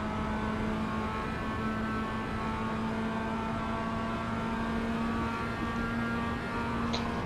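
A race car engine drones steadily in iRacing, a constant sustained tone with no breaks, close and moderately loud, with no talk over it.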